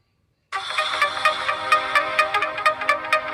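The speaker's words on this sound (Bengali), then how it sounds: "একটি রিংটোন আমার নাম ব্যবহার করে আমি তৈরি করে ফেললাম" A custom mobile ringtone built from a person's name plays after a short silence, a bright, loud synthetic tune of repeating chime-like notes in a steady rhythm, with no voice over it.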